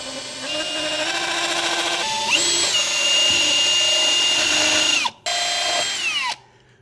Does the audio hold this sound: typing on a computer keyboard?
no